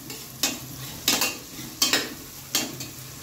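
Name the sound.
frying onions in a pan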